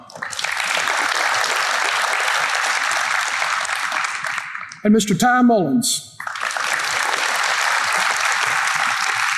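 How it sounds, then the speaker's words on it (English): An audience applauds award honorees at a high school awards day: sustained, dense clapping that breaks for a short spoken announcement and then resumes just as strongly. "Let's give these honorees a good round of applause."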